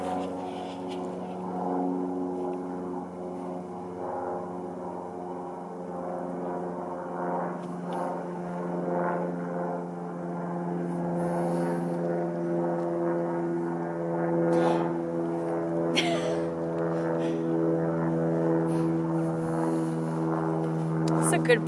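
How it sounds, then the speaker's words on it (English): Propeller airplanes flying near an airport over woodland make a steady, layered droning hum that holds for the whole stretch, swelling slightly louder toward the end, with a voice faintly present. "because there are so many planes"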